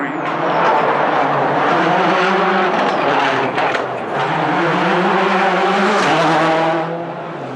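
A Hyundai World Rally Championship car drives a stage at the 2003 Monte Carlo Rally, its engine loud and close as it revs hard, drops briefly with a gear change and climbs again.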